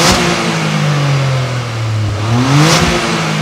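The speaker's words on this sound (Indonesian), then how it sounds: "Ya, lebih bersuara knalpotnya ketika masuk ke mode sport." A Toyota GR Corolla in sport drive mode revs loud and close, its exhaust note dipping and then climbing again in a steady, throaty growl.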